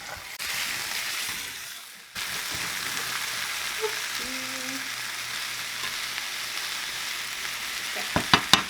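Potatoes and peppers sizzle steadily in a frying pan for breakfast sandwiches, a constant close crackling hiss interrupted once by a brief drop, with a few clinks of utensil near the end.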